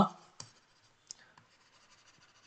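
A pen scratches across paper in short, light strokes with a few small taps, close and soft, while a voice speaks at the very start.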